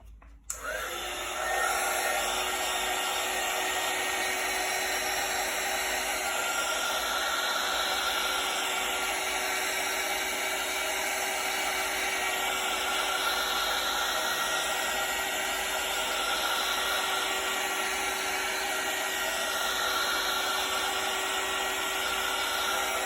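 Heat tool blowing hot air over a wet acrylic pour painting, a steady close whooshing hiss that starts abruptly and holds constant throughout with no talking.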